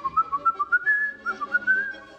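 Mickey Mouse whistles a bouncy tune aboard his boat in the 1928 cartoon. The notes are clear, bright and close, come in short chirping bursts and then a few held phrases, and play alone with no talk.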